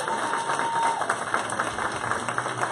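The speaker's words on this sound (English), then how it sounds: "Let's give them a round of applause." Brief applause from attendees at a monthly community meeting, a modest patter of clapping hands over a steady background hum, lasting under three seconds.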